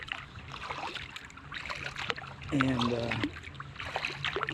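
Canoe being paddled on a river, soft rhythmic paddle strokes and water swishing under wind noise, with a brief voice speaking partway through.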